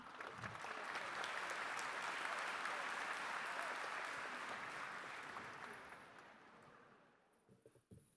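An audience at a live Urdu poetry event in London breaks into loud, sustained applause to welcome a poet, a dense wash of clapping that swells, holds for several seconds, then thins out and fades toward the end.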